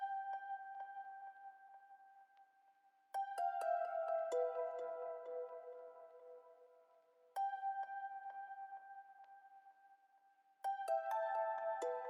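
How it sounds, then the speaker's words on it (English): Bright plucked guitar notes ring out in short melodic phrases, each group starting with sharp attacks and decaying slowly, repeating in a loop. "I've added this pluck guitar, which is sort of like a counter melody"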